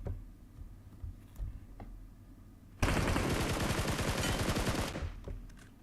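A sudden burst of rapid automatic gunfire in the video game PUBG Mobile rattles loudly for about two seconds, then cuts off, with quiet background noise before and after.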